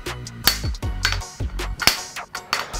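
A big hammer beats a crown race onto a bicycle fork with a Birzman crown race tool, giving a series of sharp metallic strikes about every half second, each with a short ringing decay; no talking.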